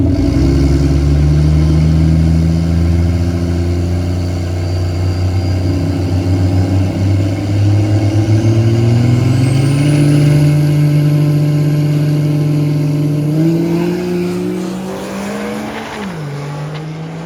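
Car launching hard in a drag race against a diesel on a marginal-grip track, a loud close engine roaring and climbing through the revs for a long stretch, pitch sweeping upward before dropping off at a gear change near the end.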